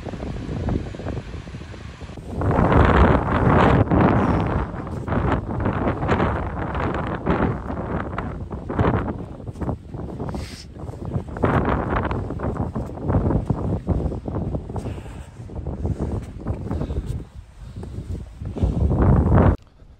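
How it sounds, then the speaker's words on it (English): Strong gusty wind buffets the top of a waterfall beside a reservoir, roaring loudly and close against the microphone with rising and falling surges and no talking. "Yeah, it's windy at the top, so it's dragging the water over."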